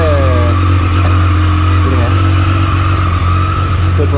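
A 2020 Triumph Street Triple RS motorcycle engine runs loud and close at a steady, rumbling idle after starting, with a faint voice briefly under it.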